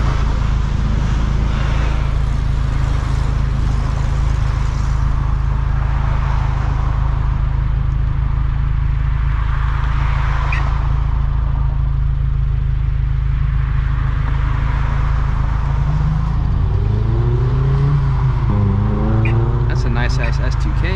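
A Greddy turbocharged Scion FR-S drones steadily with a loud low exhaust rumble, engine pitch rising and falling as it revs, while people talk in the cabin over it; no distinct blow-off valve release stands out.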